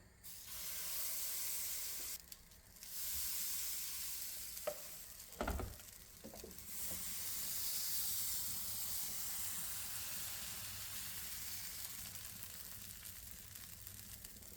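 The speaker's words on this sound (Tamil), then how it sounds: "இப்போ அடுப்பு சூடாகிட்டது, நாங்கள் அப்பத்துக்கு ஊற்ற போகிறோம்." Appam batter hits a hot pan and sizzles with a steady, close hiss that carries on evenly, broken by a few brief clinks and scrapes of utensils.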